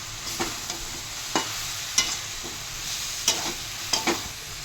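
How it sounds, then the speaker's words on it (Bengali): Sugar is stirred into ash gourd curry in a pan, with a soft sizzle under sporadic scraping and tapping of a spoon against the pan at irregular intervals. "বন্ধুরা এইভাবে নাড়তে 5-7 মিনিট মতো নাড়তে থাকবেন।"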